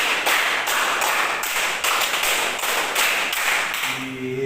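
Classmates in an Islamic education lesson clap as a group in a counted rhythmic pattern. Bursts of massed clapping follow one another steadily, and a faint tonal sound closes the clip.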